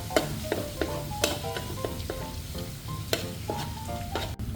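A spoon stirs and mixes a sauce in a pan for spaghetti with clams, parsley just added, with repeated scraping clinks over a steady sizzle.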